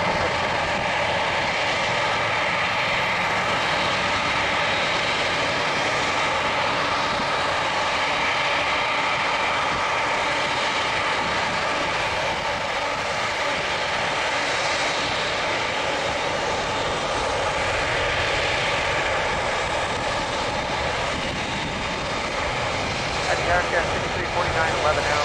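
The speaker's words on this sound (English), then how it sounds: "heavy airbus touching down" A heavy Airbus jet roars steadily on its landing approach to San Francisco International in Microsoft Flight Simulator 2020, a loud sustained engine rumble throughout with voices over it.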